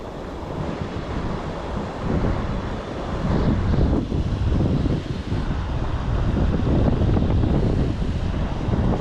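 Wind buffets the microphone beside a dam on a hot day of goldeye fishing, a loud, rough roar that swells and eases in gusts with no voices.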